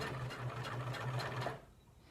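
Sewing machine top stitching close to the edge of a fabric face mask, a fast steady mechanical whir with rhythmic needle pulses that stops after about a second and a half.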